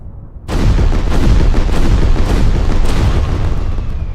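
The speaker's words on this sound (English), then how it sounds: "fireworks." Homemade celebration rocket fireworks go off after ignition, with a sudden loud burst followed by a sustained roar of crackling blasts and rumbling booms that continues for several seconds.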